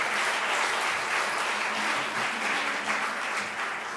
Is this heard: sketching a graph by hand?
no